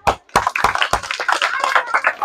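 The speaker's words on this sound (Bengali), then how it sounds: "সবাই হাততালি" Several people clap in short bursts at a village football-kicking game where women aim at a tire for prizes, with a few sharp claps at first and then a looser patter mixed with voices.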